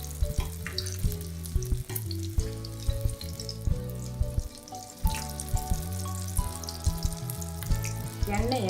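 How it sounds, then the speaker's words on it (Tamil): Mutton pieces shallow fry in oil with a steady close sizzle and crackle, punctuated by clinks and scrapes as pieces are moved and turned in the pan. "எடுத்து எண்ணெயில் போட்டு ஷாலோ ஃப்ரை பண்ணி எடுக்கணும்"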